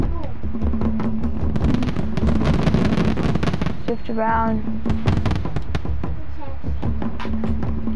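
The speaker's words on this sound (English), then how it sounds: "Man, they really like setting off fireworks, don't they?" Fireworks go off in a video game as a rapid string of crackling pops and a rising whistle, heard under continuous talk from players over voice chat.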